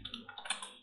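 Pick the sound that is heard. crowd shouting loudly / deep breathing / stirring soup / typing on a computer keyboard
typing on a computer keyboard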